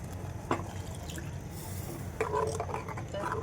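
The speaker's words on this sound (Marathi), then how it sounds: "मी थोडं पाणी ॲड करते" Water is poured into a simmering Malvani ladyfish curry in a home kitchen, giving a soft splash and light trickling over a faint background hiss.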